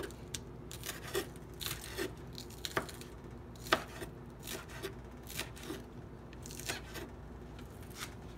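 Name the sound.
chopping food with a tiny little knife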